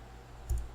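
A single computer mouse click on a pay button in a work-hours management app, a short close tap with a faint second click just after, alone in a quiet room.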